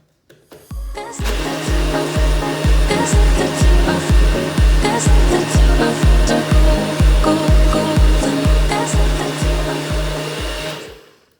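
Blender running steadily for about ten seconds while blending a smooth, creamy mixture, a loud close motor whir with a rapid pulsing beat, starting abruptly and stopping at the end.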